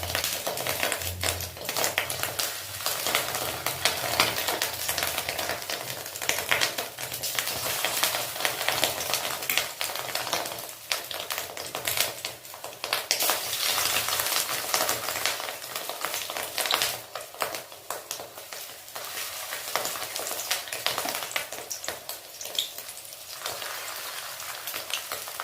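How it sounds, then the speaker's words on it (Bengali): Fish-roe fritters (macher dimer bora) drop one by one into hot oil over medium heat, giving a steady dense crackling sizzle that runs continuously and fairly loud with no talk. "তো এখানে তেল গরম হয়ে গেছে, আমি আঁচটা মিডিয়াম রেখে এই একটা একটা করে বড়া ছাড়ছি।"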